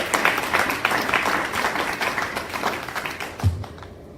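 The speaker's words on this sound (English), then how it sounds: "Let's give them a big round of applause." An audience claps in sustained, dense applause that gradually thins out and fades toward the end.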